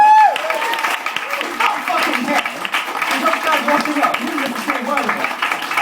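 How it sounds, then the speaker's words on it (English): Clapping from the audience at a small stand-up comedy show in Loughborough, steady applause running throughout, with a voice talking over it and pitched tones at the start. "Can you please give a round of applause for Pete Gardner for providing the venue and sound?"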